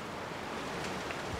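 A steady, low wash of river water near a city street in The Last of Us Part II, like surf and wind, continuous and fairly faint with no voices.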